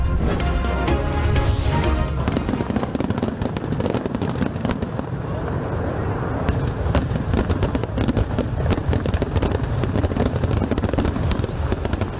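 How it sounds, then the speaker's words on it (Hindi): Continuous crackling and popping of fireworks, dense bursts overlapping throughout, with faint voices mixed in. "आसमान पर आतिशबाजी और दिलफरेब ड्रोन शो के नज़ारे"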